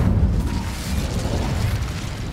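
A fire spell cast in Hogwarts Legacy inside a spooky cave maze: a steady, loud roaring whoosh of flame with a low rumbling body, sustained for a couple of seconds without speech.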